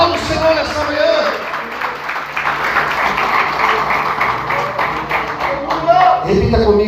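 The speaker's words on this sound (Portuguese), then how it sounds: "Aplauda o Senhor nessa manhã." Church congregation clapping together during a worship service, a dense, steady wash of many hands filling the room at close range, with voices talking and calling out over it throughout.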